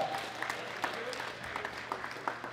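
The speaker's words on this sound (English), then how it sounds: "Big round of applause for Jacob" Applause from an audience at a junior men's 93 kg powerlifting medal ceremony at a world classic championship: steady, moderately distant clapping that fills the hall, with a faint hum underneath.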